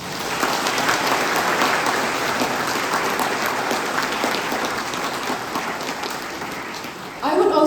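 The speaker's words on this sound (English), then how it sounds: "Let us once again welcome all the graduating batch of 2025 with a resounding round of applause" Applause from the audience at a 2025 commencement day ceremony welcoming the graduating batch, a steady dense wash of clapping sustained throughout, swelling slightly louder at the very end.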